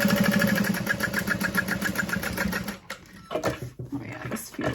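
A sewing machine runs in a quick, even stitching rhythm along the edge of a fabric bag, fairly close, then stops and gives way to a few soft handling clatters and rustles.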